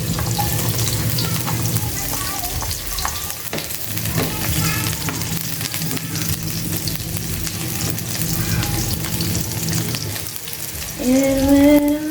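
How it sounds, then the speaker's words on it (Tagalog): Onion and garlic sizzle steadily while sautéing in a pan, a loud continuous frying hiss with occasional stirring scrapes, growing briefly louder near the end. "gisa na natin ang ating sibuyas"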